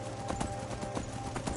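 A horse's hooves clip-clop in the video game Skyrim, a quick, steady rhythm of moderately loud hoofbeats heard on their own.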